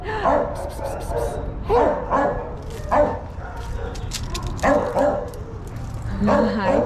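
A dog barks and yips close by in short bursts, roughly every second or so, mixed with whimpers while a person talks.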